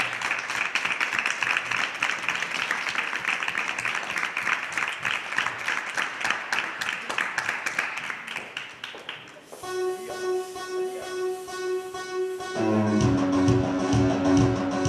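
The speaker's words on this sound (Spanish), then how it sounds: "Fuerte aplauso para ella." An audience applauds a performer at a live music show, the clapping dense and sustained for several seconds before a piano-like instrument enters and takes over.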